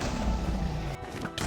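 Bow shots strike end crystals in Minecraft, setting off a sharp crash and blast near the end of a loud, steady game din, with a second burst trailing just after.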